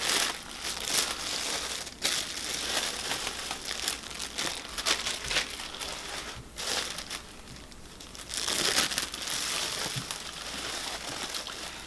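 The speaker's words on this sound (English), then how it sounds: "I'm just going to cut away some of this longer pieces of plastic" Plastic sheeting crinkles and tears as longer pieces are cut away from around a Ficus benjamina bonsai fusion, with continuous close crackling and rustling and brief pauses between cuts.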